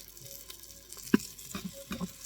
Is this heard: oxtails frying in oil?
yes